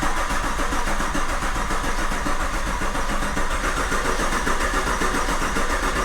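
A Camaro's freshly swapped 1000+ horsepower engine turns over on its starter, a steady, loud rhythmic cranking churn that continues without catching, with no voices over it.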